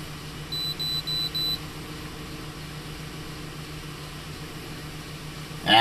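A Ford Explorer's door-open warning chime beeps four times in a steady rhythm over a low idling hum, then a door thuds at the end.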